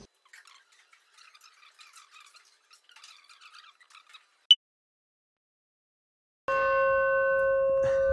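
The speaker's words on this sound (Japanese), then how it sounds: "なんか鐘が鳴っておりますけど" At a Vipassana meditation centre in India, a single sharp bell strike rings out after scattered quiet chatter, then later a sustained, ringing bell-like tone with steady overtones continues to the end.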